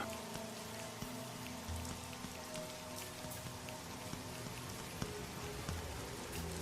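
Steady heavy rain pours down, a dense continuous hiss with scattered drops pattering on a hard surface, no voices.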